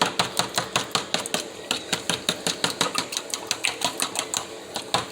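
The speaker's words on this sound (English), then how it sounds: "we're just whisking in the eggs, making sure everything's all combined." A whisk beats eggs into a milk mixture for chocolate banana flan, striking the bowl in a fast, even series of sharp clicks throughout, close and clear, no talk.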